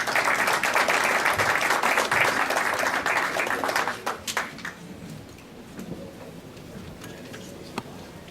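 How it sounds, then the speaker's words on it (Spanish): An audience applauds heartily for Dr. Enrique Bedoya Sánchez after a conference on new management doctrine. The clapping is dense and loud at first, then fades after about four seconds to a few scattered claps. "Un aplauso para él, por favor."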